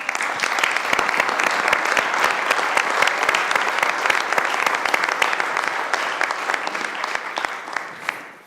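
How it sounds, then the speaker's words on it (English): Loud, dense applause from people in a county board meeting room, a steady round of clapping that holds for several seconds before tapering off at the end. "we'd like to give you a round of applause."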